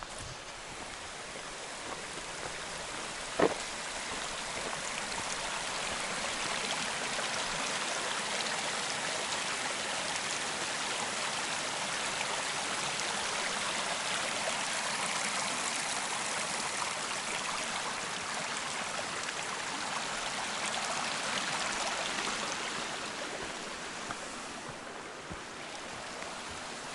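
West Trough Creek at mile 1170.7 of the Pacific Crest Trail rushes steadily and close, a continuous full wash of flowing water with one brief click early on and no voices.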